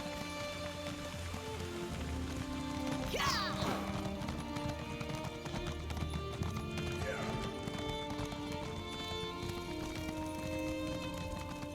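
Horse hooves clip-clopping steadily while riding in ESO Morrowind, a continuous rhythmic trot with a neigh, close and moderately loud over ambient music.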